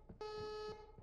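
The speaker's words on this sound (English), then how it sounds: "Alarm." An in-game alarm in Graveyard Shift at Freddy's gives one steady electronic tone of about half a second. It is faint and even and sits over quiet background rustle.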